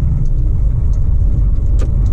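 A truck pulling a trailer drives along, a loud, steady low engine rumble with road noise heard from inside the cab, no talking.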